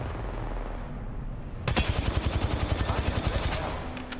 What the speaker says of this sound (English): Firing! Opening fire on the enemy